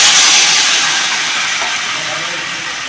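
Hot water hitting a hot pan of reddened mutton curry with potatoes, a loud, steady steaming hiss that starts strong and slowly eases over a few seconds, with no talk.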